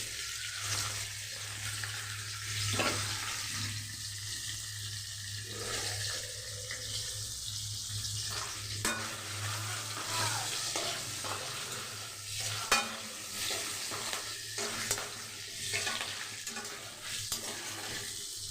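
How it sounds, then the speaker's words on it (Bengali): Paneer cubes fry in a pan for a vegetarian capsicum paneer dish, producing a soft, steady sizzle and hiss with a low background hum and occasional quiet stirring clicks throughout. "বাকি পনিরটাও আমি লাল লাল করে ভেজে নেব।"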